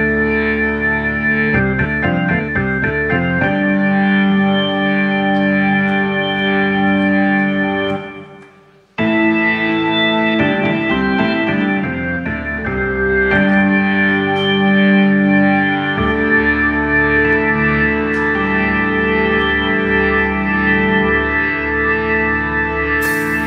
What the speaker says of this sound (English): It starts off with an organ melody. If you heard it one time, you will never forget it, with lots of reverb, lots of echo on it